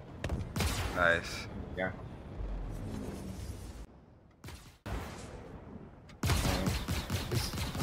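Rapid gunfire in the space game Star Citizen, bursts of shots crackling in several loud stretches with brief quiet gaps between, mixed with people talking over voice chat.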